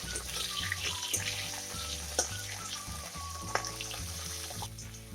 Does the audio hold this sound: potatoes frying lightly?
yes